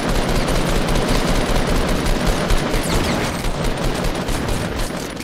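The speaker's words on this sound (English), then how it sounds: "I just got shot by some fucking teammate." Dense, loud gunfire in a Fortnite Battle Royale squads match, rapid overlapping bursts and shots rattling continuously for several seconds with no talk over them.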